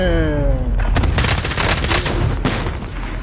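Rapid bursts of 7.62x39mm gunfire crack in quick succession, dense and loud, with sharp repeated reports and a chaotic fusillade rhythm filling the whole span.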